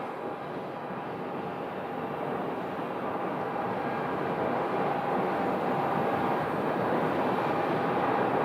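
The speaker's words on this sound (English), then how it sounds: "British Airways is now short final." A British Airways Boeing 777-200 airliner on short final approach at Sky Harbor gives a broad, steady jet roar that swells slightly as it nears, with no voices over it.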